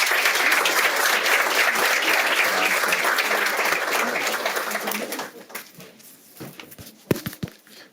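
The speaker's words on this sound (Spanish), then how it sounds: "Un fuerte aplauso para ellos" Sustained, dense audience applause at a law faculty's opening academic session on AI in teaching, loud for about five seconds and then thinning into scattered claps.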